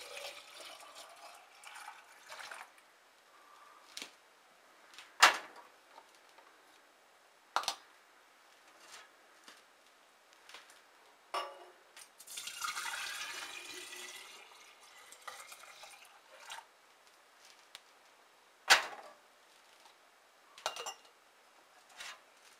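Elderberry syrup poured in a home kitchen, heard as faint liquid splashing and pouring with scattered sharp clinks of a utensil or container, plus a longer hissing pour partway through.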